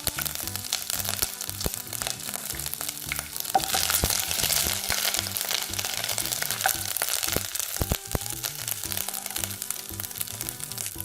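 Ginger and chillies sizzle in hot oil in a frying pan for Malaysian fried rice, a loud, constant crackling fry broken by sharp clicks of a spoon stirring, with no voices.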